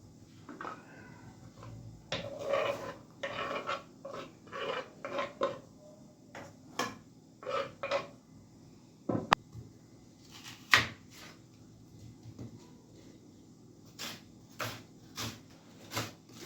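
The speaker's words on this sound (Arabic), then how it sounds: "تنبقى نشلط هادشي كامل حتى تنسالي الخضره ديالي كامله" Vegetables and onion are stirred in a frying pan while cooking msemen filling, a spoon scraping and knocking against the pan in irregular bursts, close and fairly quiet, with soft sizzling underneath and pauses between strokes.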